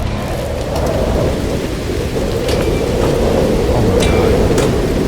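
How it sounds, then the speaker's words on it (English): A superheated rainstorm in the video game No Man's Sky: heavy, dense rain hiss with a deep rolling thunder rumble throughout, loud and close, while a voice briefly exclaims over it. "Superheated rainstorm."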